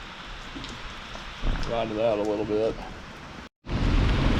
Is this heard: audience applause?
no